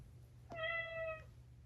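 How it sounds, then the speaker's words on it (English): Chongker MateCat Pro robot cat giving one short, faint electronic meow-like tone over a low background hum, heard alone. "And then also it purrs."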